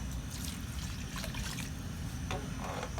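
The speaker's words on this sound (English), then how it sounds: "so I will add a cup of water" Water trickles and splashes steadily into a cooking pot, with a constant liquid rush and a few brighter drips and gurgles near the end.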